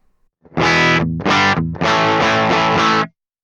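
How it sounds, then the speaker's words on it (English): Loud, heavily distorted electric guitar chords through a high-gain Mesa Boogie Mark IIC+ tube amp, three strummed bursts with the last one held and ringing before cutting off sharply. "you'll hear that there's still more gain than if it was at 5, but it's a different type of saturation"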